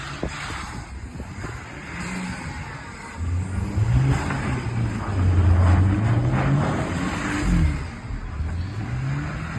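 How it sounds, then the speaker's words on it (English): A turbocharged car revving hard while doing donuts in snow, engine roaring and surging in waves with rising and falling pitch, fairly close and loud, with wind or tire noise underneath. "You can hear the turbo in it."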